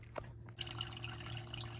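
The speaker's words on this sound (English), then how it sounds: "so it is dripping a little bit, but that's why I got a little bucket right here to catch everything" Coolant drips from the drain plug of a Lexus IS350 into a bucket, with a few soft, sparse drips over a steady low mechanical hum close by.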